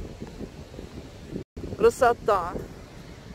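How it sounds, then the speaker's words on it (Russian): Strong mountain wind buffets the microphone on a trip through Provence, a broad rumbling roar with gusts. Someone speaks briefly over it near the end. "И такая, послушайте, такой ветер."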